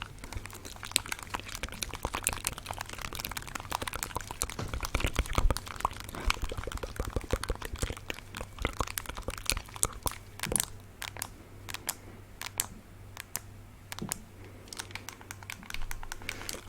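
Game controller buttons clicking, rapid irregular bursts of small plastic clicks close to the microphone, busier early on and sparser toward the end.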